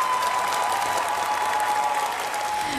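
Steady audience applause for a singer at a children's singing competition, continuous dense clapping at even loudness throughout with a faint tone running under it.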